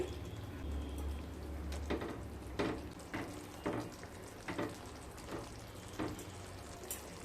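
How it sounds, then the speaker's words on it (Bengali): Silver carp fries softly in a pan, giving a low, steady sizzle. A spatula stirs it in a series of regular scraping taps, each about a second apart. "এই মাছগুলো খুব নরম হয় হালকা হাতে কিন্তু মাছটাকে নাড়তে হবে"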